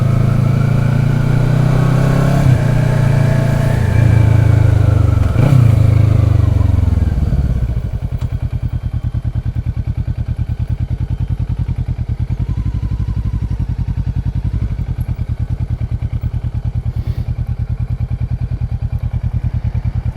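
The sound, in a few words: motorcycles riding off in group ride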